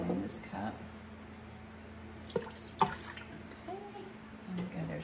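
Chicken broth poured from a container into a soup pot of chicken gnocchi soup, a soft, steady liquid pour with a few brief splashes and light clinks, fairly quiet in a home kitchen.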